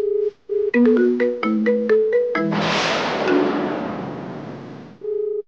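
A mobile phone plays a melodic ringtone that goes unanswered; a loud burst of noise cuts across the tune midway, fades out, and the ringtone resumes near the end.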